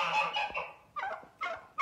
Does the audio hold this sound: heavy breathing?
no